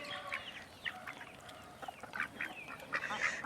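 Ducks at feeding time give a run of short, quick quacks and calls, several birds close by, chattering in bursts with no talking.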